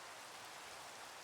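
Minecraft rain, a faint steady hiss of falling rain with no distinct drops and no voices over the brief stretch.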